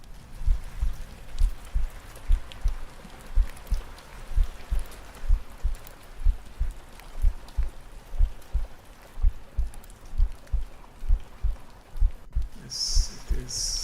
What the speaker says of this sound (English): let's stop the heartbeat sound for a bit